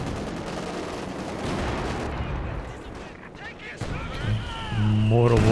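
Mortar and artillery fire in Company of Heroes 2, heavy booming impacts and gunfire rumbling through a battle, with a person talking over it.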